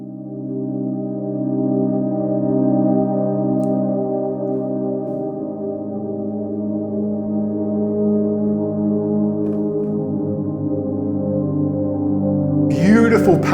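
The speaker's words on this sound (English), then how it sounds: "Beautiful pad sound" A lush, sustained synthesizer pad in a piece made for television, with soft chords slowly shifting over a long, steady wash at moderate level, ending in a brief noisy swell.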